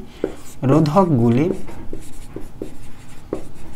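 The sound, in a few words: writing by hand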